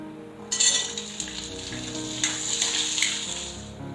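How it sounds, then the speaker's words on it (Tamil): Small onions sautéing in oil for mutton kulambu, a steady close sizzle with bursts of crackle and light stirring scrapes, no voices. "இப்ப வெங்காயம் நல்லா வதங்கியாச்சு."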